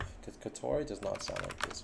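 Quick clicking of keys typed on a computer keyboard, heard under a person talking.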